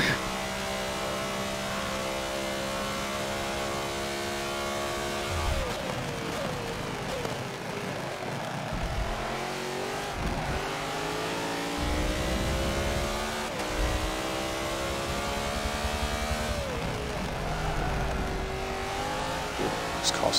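BMW race car at a Sandton special event, its engine revving hard on track with repeated gear shifts rising and falling, loud and continuous from an onboard position, with voices talking over it.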